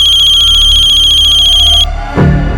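A telephone rings loudly and close by, one continuous electronic trill lasting nearly two seconds before it cuts off abruptly, followed by a brief handling clunk as the handset is picked up.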